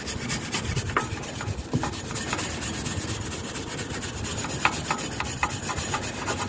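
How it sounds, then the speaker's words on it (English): Copper bristle brush scrubbing crud off rear brake parts on a Volvo V70, close rasping strokes in an irregular back-and-forth rhythm with occasional sharp scrapes, alone without talk. "I'm going to use a copper bristle brush here."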